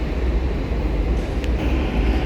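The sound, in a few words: light rail train running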